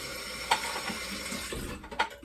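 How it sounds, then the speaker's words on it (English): Water runs steadily from a sink tap while hands are washed beneath it, a soft continuous splash with a couple of brief louder splashes. "Let me wash my hands real quick again"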